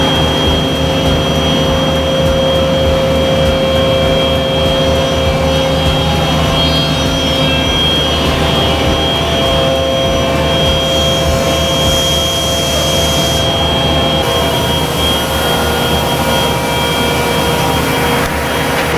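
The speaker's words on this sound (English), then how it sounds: "It's going to lift it up and bring it over to these tables where it can then be cut by our panel saw machine." An automated panel-handling machine lifts a panel and carries it to the panel saw tables, producing a loud, steady industrial drone with a constant mechanical hum and a faint hiss that shifts partway through, unbroken by speech.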